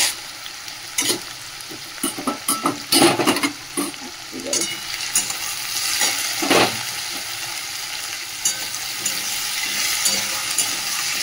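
Prawns, potatoes and onions fry together in a pan, a constant oily sizzle under repeated scraping and clinking of a spatula stirring the pieces, busier at first then settling.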